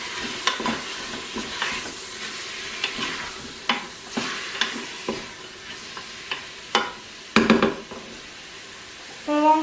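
Onion and garlic frying in a Cookeo multicooker, stirred with a utensil that scrapes and clicks against the pot in irregular bursts over a continuous sizzle, close and fairly loud.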